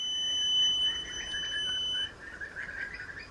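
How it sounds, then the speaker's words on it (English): A battery management system on a QUCC BMS beeps: a continuous high-pitched electronic tone sounds steadily for about two seconds, then cuts off, leaving a fainter warbling whine. "this should make the BMS beep."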